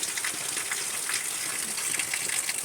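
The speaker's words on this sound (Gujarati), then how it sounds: "નદીમાં તો એટલું પાણી આવ્યું છે" A river swollen by about two hours of heavy rain gushes past, a continuous loud rushing roar of water, steady and unbroken, with no voices over it.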